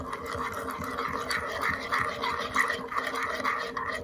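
A vegan miso, lemon and garlic dressing is stirred in a bowl, giving a steady, close scraping and swishing with a soft rhythmic texture that runs throughout.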